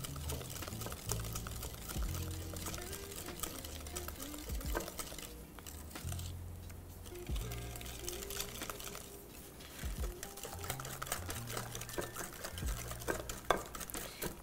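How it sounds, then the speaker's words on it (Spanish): Continuous stirring and scraping of wet brownie batter in a bowl, with an irregular clatter of the utensil against the sides. It stays at an even level with brief pauses and no talking. "Y esto inmediatamente vamos a mezclar."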